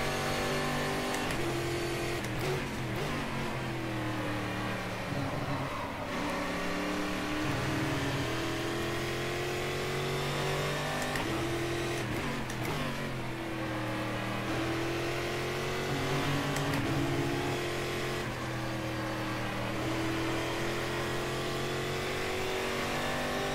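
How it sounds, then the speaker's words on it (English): Brazilian V8 stock car engines roar continuously in the Game Stock Car 2013 racing game, holding a steady loud drone with rising and falling revs through gear changes and no talk. "Brazilian V8 stock cars"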